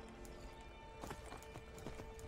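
Hooves clip-clop steadily as a horse gallops in the video game Skyrim, with a brief whinny mixed in over constant game background sound.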